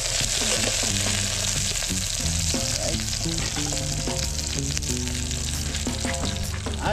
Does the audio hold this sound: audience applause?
no